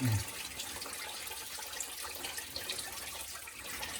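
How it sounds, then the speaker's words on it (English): Coolant drains from a 2002 Chevy 5.3 V8 into a drain pan, a steady, fairly faint trickling and splashing stream running without a break, with a short knock at the start. "That way it drains into my pan."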